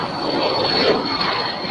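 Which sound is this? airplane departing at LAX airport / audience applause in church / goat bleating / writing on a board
airplane departing at LAX airport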